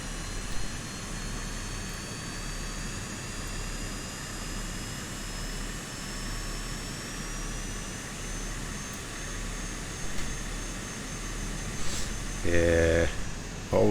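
Steady drone of a Cessna aircraft engine in a flight simulator game, running continuously throughout, with people talking over it and a brief burst of other game sounds near the end.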